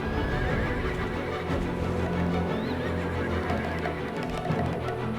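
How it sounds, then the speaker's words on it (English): Loud horse neighs and whinnies from a video game, Black Desert Online, ring out over a steady rumble and clopping hooves, with no voices. "The horses won't budge thanks to that scary lot."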